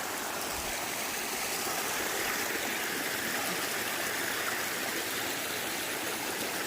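A stream flows steadily during a night hike, its broadband rushing and gurgling water continuous and fairly close, with no voices over it.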